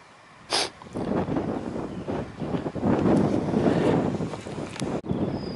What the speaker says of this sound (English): it's been a pretty stiff breeze blowing